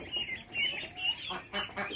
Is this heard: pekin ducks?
yes